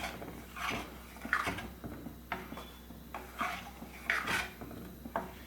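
A ladle stirs gooseberry rasam in a pot, giving soft, irregular scrapes and clinks against the metal in short bursts, heard close but faint.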